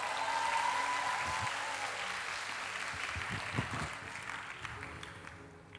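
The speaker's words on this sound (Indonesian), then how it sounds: "Berikan tepuk tangan." A church congregation claps during a service, dense applause that slowly fades out over several seconds, with a faint tone in the background early on.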